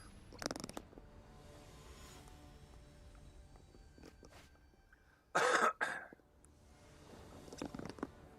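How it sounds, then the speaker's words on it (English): A person clears their throat once, loud and close, after a few quieter coughs and shuffling sounds during a live online card game session. "clear my throat."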